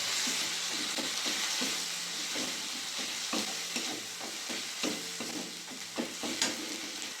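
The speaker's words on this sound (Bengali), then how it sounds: "ভালো করে মশলাটা কষিয়ে নেব।" Masala with cumin, Kashmiri chili and turmeric powder sizzles steadily in a pan while a spoon scrapes and stirs in repeated clinks and scuffs, close and alone without voices.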